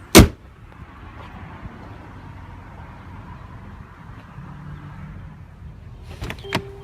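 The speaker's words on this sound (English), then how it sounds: "So the car does come with self-close automatic door on all 4 doors" A Mercedes-Benz S63 AMG's automatic soft-close door pulls itself shut: a sharp thud at the start, a steady low motor whir, then a firm latching clunk near the end, close and loud.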